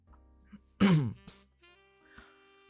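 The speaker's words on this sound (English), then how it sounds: "to blow my nose" A person blows their nose once in a single loud, harsh burst lasting about a quarter second, with a short snort after it and faint background tones around it.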